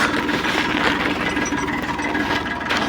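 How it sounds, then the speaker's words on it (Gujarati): A tractor engine chugs steadily nearby during wheat sowing, a loud, rough mechanical rumble with a rhythmic knocking texture that continues throughout. "તમે જોઈ શકો છો આપણું ટ્રેક્ટર જાય છે"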